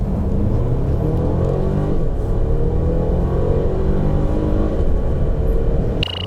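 A 2018 Mercedes-Benz GLC 350 e 4Matic plug-in hybrid with a 2-liter turbo accelerates hard from a standstill, its engine and road rumble building steadily and loud throughout, with no talk.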